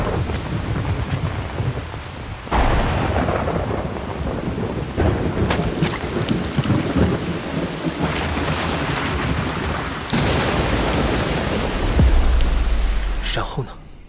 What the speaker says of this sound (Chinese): 那一年的夏天，下了好大一场暴雨